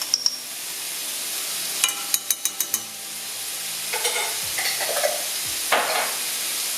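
Butternut squash and garlic sizzle in a pan while a utensil clinks and scrapes, with a quick run of sharp taps early on followed by stirring strokes over the constant frying hiss.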